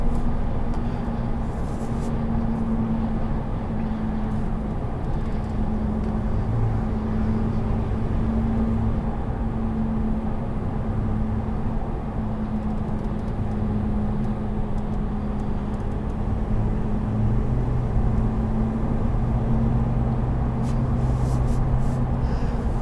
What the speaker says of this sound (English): You'll hear the off-road tires.